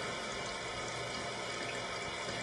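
Water running from a tap while hands are wetted for wudu, a steady broad hiss of flowing water, close and continuous without pause or voices.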